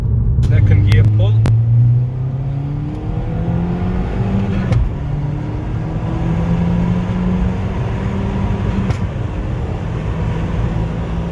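A remapped 270 bhp VW Golf Mk5 GTI accelerating hard in second gear, its engine note climbing steadily in a sustained rising drone from inside the car, with a brief dip and a couple of sharp ticks early on.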